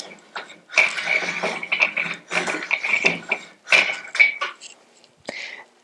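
A take-up rail on a TinLizzie18 quilting frame is adjusted by hand, giving bursts of close ratcheting clicks in quick irregular runs with short pauses between turns.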